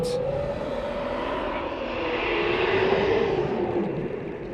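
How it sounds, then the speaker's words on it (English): A low, droning Leviathan creature roar rumbles through the underwater cave ambience of the game Subnautica, a long swelling tone over a steady wash of noise. "that sounds like a Leviathan, if I had to guess"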